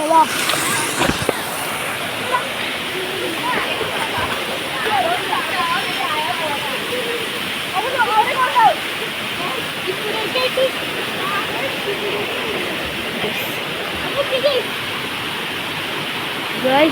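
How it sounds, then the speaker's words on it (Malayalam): A waterfall at a hill resort roars steadily and loudly throughout, with splashing water rushing nearby and faint voices now and then under the continuous wash. "ഇവിടൊക്കെ മനോഹരമായി നല്ല വെള്ളച്ചാട്ടമാണ്"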